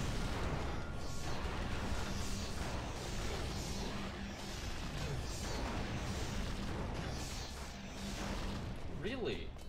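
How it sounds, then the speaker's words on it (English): A video game explosion in Marvel Nemesis: Rise of the Imperfects, heard as dense, loud rumbling crashes and booms that last throughout, with a sharper burst near the end and a voice talking over it. "You have fun with your explosion"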